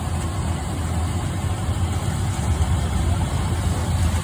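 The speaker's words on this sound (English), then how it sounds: "This is an Oliver corn picker mounted on an Oliver tractor." Oliver tractor fitted with a mounted Oliver corn picker idling at an antique farm equipment show, a steady low rumble with faint background noise and no speech.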